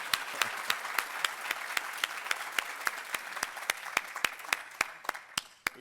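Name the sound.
audience applause at a conference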